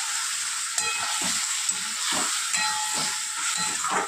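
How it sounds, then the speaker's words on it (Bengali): Water poured into hot frying spice paste for a fish egg and potato curry, producing a loud continuous steamy hiss and sizzle with bubbling and stirring beneath, close up. "এবার দিয়ে দেবো জল।"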